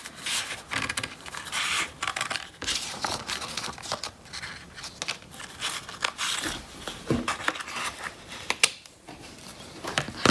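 Scissors snipping paper for a handmade Fortnite llama corner bookmark, a rapid irregular run of crisp crinkly cuts and rustles, close-up and fairly steady throughout with no talking.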